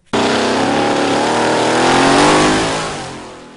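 A drag racing car launches hard down a quarter-mile strip at a local drags event, its engine roaring loud and close from a sudden start, climbing steadily in pitch and holding a sustained wail before easing slightly.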